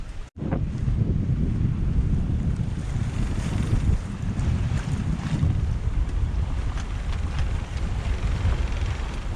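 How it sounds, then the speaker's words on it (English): A sailboat sailing on the mainsail alone in an 18 to 19 knot wind, leaving Guadeloupe. Heavy, steady wind roar and rushing water fill the whole stretch, loud and close, with no voices. "Lovely to be sailing again."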